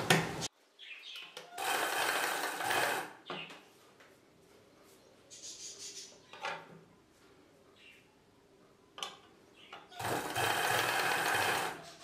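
Sewing machine stitching the end of a blouse seam, heard in short loud bursts near the start and end, with quieter handling sounds and a voice speaking in between.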